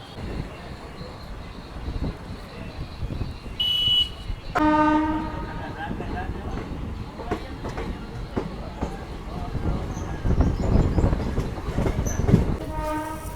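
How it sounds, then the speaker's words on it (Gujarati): Two trains, one a goods train, rumble past at a Gujarat railway station with rattling wagons and a brief horn blast, rail noise steady throughout and some voices faintly in the background. "સામે આપણાને 2 ટ્રેન ક્રોસિંગમાં મળી ગઈ છે. એક ગુડ્સ ટ્રેન છે"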